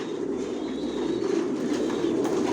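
Johnson-line racing pigeons coo inside a pigeon loft, a steady, dense chorus of low rolling coos that fills the space without pause, fairly loud and close, with no voices.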